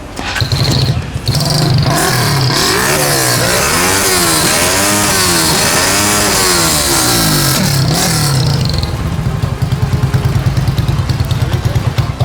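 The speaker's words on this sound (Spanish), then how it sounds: "Vamos a darle una encendidita a los motores, al motor, perdón, para que los muchachones escuchen el sonido." A loud CG200 Tauro 3D 2024 motorcycle engine with only an M5 muffler revving hard, its pitch rising and falling in repeated swells before settling back to a rough, throaty idle.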